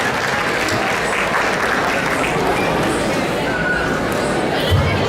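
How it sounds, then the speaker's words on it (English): An audience at an outdoor Independence Day celebration claps loudly and continuously for two singers, with crowd chatter mixed into the dense, steady applause. "So give a big round of applause to both of them."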